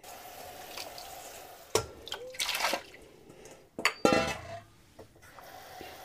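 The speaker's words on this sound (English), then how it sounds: "I'm going to add the water." Water poured into a pot of mung dal lentils with turmeric, tomatoes and salt on a stove at medium flame; soft metallic clinks of pots and utensils, a splash and a brief pouring run, fairly quiet and close.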